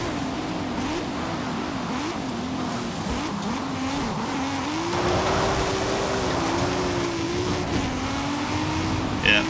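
Racing car engine in Forza Horizon 5 holding a droning, wavering tone that climbs as the throttle opens, with hints of tire noise, steady and moderately loud with faint talk underneath.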